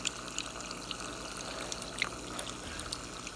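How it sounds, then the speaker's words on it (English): Water pours and trickles steadily through an AireWine wine aerator, a continuous splashing, dribbling stream with small bright splashes, close and alone. "The water running over the poration dimples."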